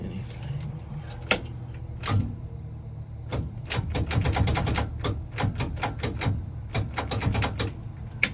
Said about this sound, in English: I guess we'll get in and just see if the starter will do anything